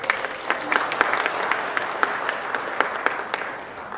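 Conference audience applauding in a hall, a steady dense wash of clapping lasting throughout with a few sharper claps standing out, fairly even in loudness and not very close.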